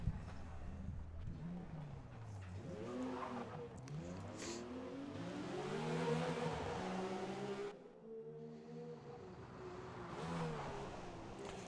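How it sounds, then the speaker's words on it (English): Race car engine in Forza Motorsport on stock tyres during practice laps, revving up and down through gear changes with rising and falling harmonic whine, steady and close throughout, with brief tire squeal and no talking. "Let's go get some practice laps in"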